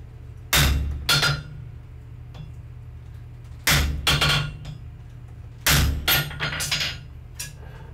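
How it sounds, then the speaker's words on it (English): A soft face hammer strikes wrought iron at a forge in three clusters of loud, ringing blows, each burst of several quick hits followed by a pause. "I'm hitting this with a soft face hammer."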